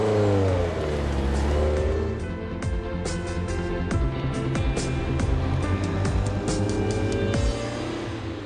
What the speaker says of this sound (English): the heart of the Ferrari, the engine, which possesses the famous aggressive tune which penetrates every inch of your body